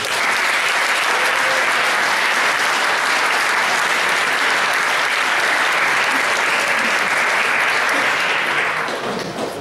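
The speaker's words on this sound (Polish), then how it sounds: "więc gorące brawa dla was." Loud, dense applause from a large audience at the closing of a Toastmasters Leadership Institute event in Warsaw, sustained evenly for nearly ten seconds before easing slightly at the end.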